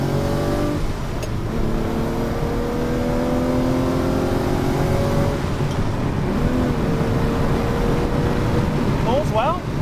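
A Ferrari 330 GTC engine pulls steadily in second gear, a loud continuous drone with rising harmonics as the car accelerates on a road, plus a brief voice near the end.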